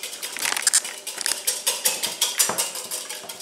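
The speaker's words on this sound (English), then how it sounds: "Beat the yolks" A whisk beats egg yolks in a bowl, quick irregular metallic clinks and scrapes against the sides, close and fairly loud with no talking.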